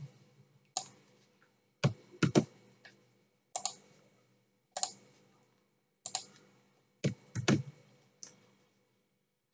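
Sparse keystrokes on a computer keyboard while writing a web page stylesheet, crisp close clicks in short clusters of two or three separated by quiet pauses, with no speech.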